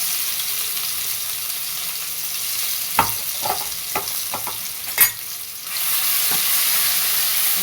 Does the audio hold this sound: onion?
yes